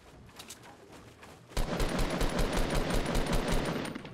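Rapid gunfire from a Fortnite match crackles in a fast repeating burst, faint at first, then growing louder and denser midway through, with no talk over it.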